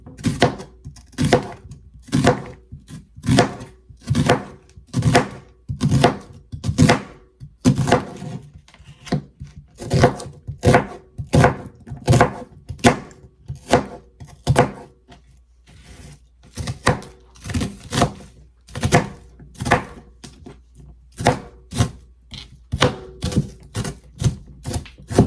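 A knife chops cabbage on a cutting board in a home kitchen, with rapid, steady close-up thunks in quick bursts and a brief pause partway through.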